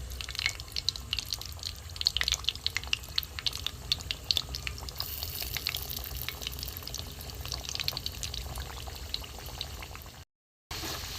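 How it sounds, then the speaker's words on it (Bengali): Pieces of gaja dough frying in hot oil, a steady soft sizzle with scattered crackles and pops, close and fairly quiet, cutting out briefly near the end. "তেল বসিয়ে দিয়েছি, তেল গরম হয়ে এসছে। আমি একটা করে এবার ছেড়ে দেবো।"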